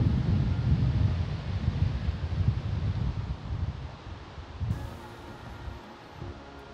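Strong wind at Lake Tekapo buffets the microphone in a loud, steady roar with gusty swells, easing somewhat toward the end, with no talk over it.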